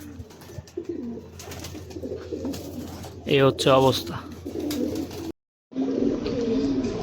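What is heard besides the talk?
pigeons cooing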